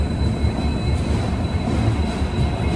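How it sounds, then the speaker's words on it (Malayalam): The Gurudev Express rolls into platform three at Visakhapatnam station, a loud continuous low rumble and rattle of railcars with a faint high whine, steady throughout and unaccompanied by voices. "3-ാം നമ്പർ പ്ലാറ്റ്ഫോമിലേക്കാണ് നമ്മുടെ ട്രെയിൻ വരുന്നത്"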